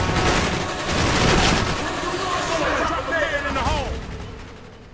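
Rocket launchers firing from rooftops during a Call of Duty: Black Ops firefight on Xbox 360, a dense, loud stream of gunfire and explosive booms that runs unbroken through the whole stretch, with a voice talking over the battle.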